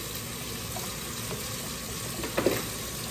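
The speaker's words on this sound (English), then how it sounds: "advice I can give you when frying food" Fish frying in oil on a stove, a steady close sizzle with a brief louder crackle near the end.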